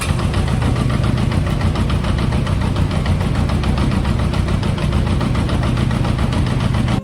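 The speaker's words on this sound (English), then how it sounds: "Finally got on my motorcycle" A motorcycle engine idles steadily and loudly at close range, a continuous low throbbing rumble with a fast, even pulse that holds without break for about seven seconds and cuts off at the very end.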